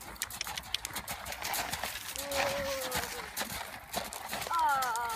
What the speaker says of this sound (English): It's quite a level canter. Nice big open canter